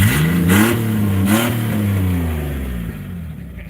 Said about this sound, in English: if you start it just real quick, it'll be nice and loud, and you could actually probably rev up some RPMs